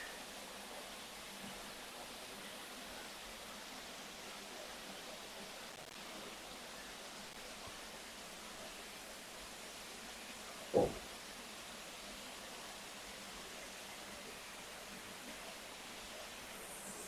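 A koi pond shower spilling water steadily into the pond, a soft continuous hiss of falling water heard from a distance, with one brief knock partway through.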